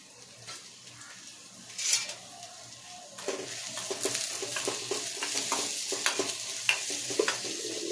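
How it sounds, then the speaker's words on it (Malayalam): Shallots sautéing in coconut oil for mutton curry: a quiet start gives way to a rising, continuous frying sizzle from about a third of the way in, with light stirring knocks. "ചെറിയ ഉള്ളി ഒന്ന് വഴറ്റി വരട്ടെ"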